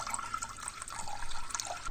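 Water pours and splashes steadily into a cooking pot over toor dal for a home lunch, a continuous bright trickling stream with no voice.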